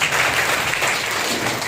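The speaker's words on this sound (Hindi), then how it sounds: "एक जोरदार ताली बजाइए।" A church congregation at a Sunday morning service breaks into loud, dense applause, a steady roar of many hands filling the room throughout.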